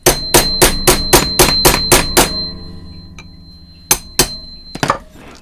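A small hammer taps rapidly and steadily on a rusty gear stick during a Slavia 618 restoration, about ten sharp close metallic strikes, then a pause and a few more scattered blows with a faint ringing tone.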